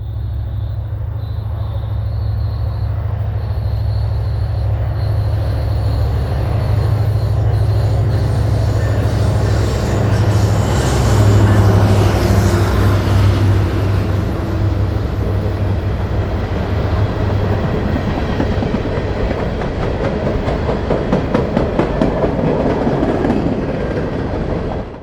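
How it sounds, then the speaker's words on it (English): Empty coal freight train on the Royalton branch rolling past, a loud continuous rumble with deep engine drone and rhythmic clickety-clack of wheels over rail joints building toward the end. "we managed to catch a rare afternoon coal empty heading up the Royalton branch"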